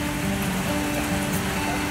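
Rain falls on a fishing lake on a stormy day, a loud, steady, unbroken hiss of drops across the water's surface with no pauses.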